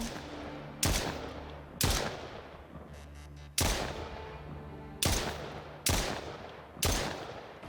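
Pistol gunfire in a video game: seven sharp, loud single shots spaced about a second apart, each with a short decaying echo over faint background ambience.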